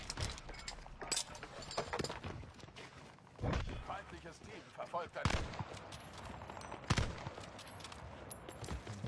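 Sniper rifle shots in a video game, several sharp, loud cracks spaced a second or two apart amid game noise, with someone talking throughout.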